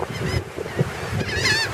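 Seagulls calling near a shore, a few loud, harsh squawks overlapping close by over a windy, surf-like background wash.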